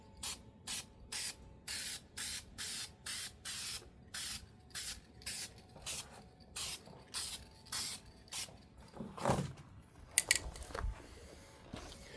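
Repeated bursts of spray paint laid onto a welded tire swing arm, about fifteen short even hisses in steady rhythm, close and loud, followed by a few scattered knocks and handling noises.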